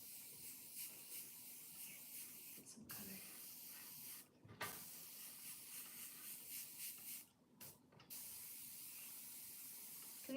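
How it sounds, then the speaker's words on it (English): An airbrush sprays paint in a steady, soft hiss that runs almost continuously. It stops for a few brief gaps and then resumes. It stays close and even, with no talking over it. "Sometimes you see me spraying it in the palm of my hand just to keep it clean."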